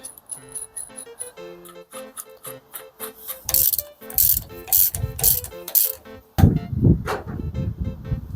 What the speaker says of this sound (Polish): dokręcam na razie sobie tak z czuciem